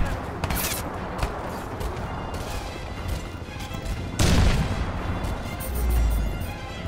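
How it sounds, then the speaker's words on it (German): Grenade explosions and gunfire in the shooter video game Crysis 2, a dense barrage of bursts and crashes with a heavy blast midway and a deep rumble near the end, loud and close. "Die werfen Granaten."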